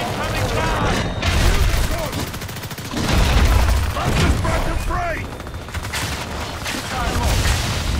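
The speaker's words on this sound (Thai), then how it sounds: "โดนระเบิดเข้าไปลูก" In the video game Evolve, a hunter battling a Meteor Goliath monster takes rapid bursts of gunfire and booming explosions, loud and continuous, with someone talking over the combat.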